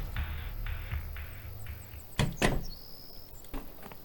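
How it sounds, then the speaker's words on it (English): A front door swings and thuds shut in Thief Simulator, two sharp close knocks in a row after quiet shuffling, followed by a soft latch click and faint ambient hum. "I better close their front door and relock it."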